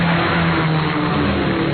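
Car motor revving in the background of a band's recording, a steady low droning engine note under dense music, continuous and loud.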